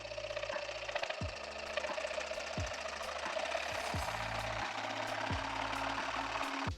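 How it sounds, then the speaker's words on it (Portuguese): A jigsaw cuts the outline of a homemade surfboard fin, its steady motor buzz rising in repeated strokes throughout, loud and close with no talk. "vamos realizar o recorte do outline utilizando a serra tico-tico"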